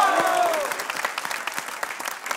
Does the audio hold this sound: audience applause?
yes